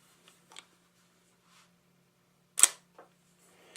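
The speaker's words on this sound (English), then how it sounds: "Now things get interesting with a Perfix Deluxe. We'll go ahead and advance it. It looks like 1/100th." Perfix Deluxe camera shutter firing at 1/100 second, one sharp close mechanical click preceded by faint handling ticks of advancing the film.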